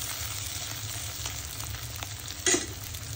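Chicken pieces frying in a pan, a steady close sizzle that runs without a break, with a brief louder burst of stirring or spatter near the end.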